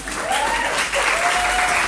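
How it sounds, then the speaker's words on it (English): Audience applause at a hypnosis talk and presentation in Toronto, a steady wash of clapping from a seated crowd throughout, close and fairly loud. "give yourself a round of applause"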